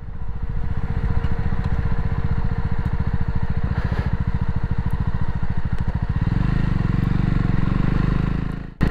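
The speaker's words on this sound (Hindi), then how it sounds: "अभी स्पीड डाउन करते हैं, ब्रेकिंग कंप्लीट है इसका।" A Jawa 42 2.1 motorcycle engine runs loud and steady close by, with a throbbing exhaust beat that deepens and shifts as the bike slows down after a top-speed run.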